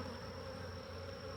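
Honeybees hum in a continuous, even drone during an apiary hive inspection, a close steady buzz with a thin high tone running throughout, faint overall and without speech.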